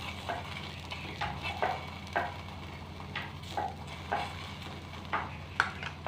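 An aloo paratha cooks with oil on a pan, a low steady sizzle under repeated scraping and tapping as it is pressed and flipped, close and quiet with no talk.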